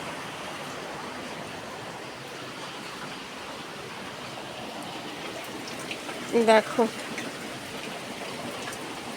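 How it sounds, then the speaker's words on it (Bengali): Steady rain falls in a constant, even hiss throughout, moderately loud and close, with a person's voice breaking in briefly about two-thirds of the way through. "বৃষ্টি হচ্ছে।"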